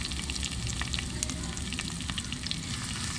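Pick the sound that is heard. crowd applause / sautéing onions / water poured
sautéing onions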